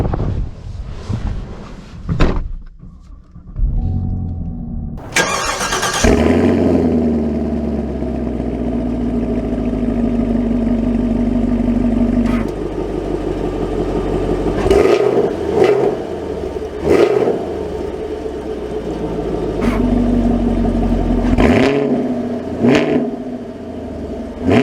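A 2023 Chevy Camaro LT1 with a V8 cranks and fires up, settling into a deep, steady idle, then revs and pulls away with rising engine note and a few louder bursts, recorded close from inside the car.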